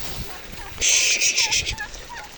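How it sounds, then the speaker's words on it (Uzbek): Farm turkeys gobble in a loud, rapid burst at close range, followed by a few fainter calls, with light background noise. "Mana 50 ta kurkamiz, g'ozimiz bir jup."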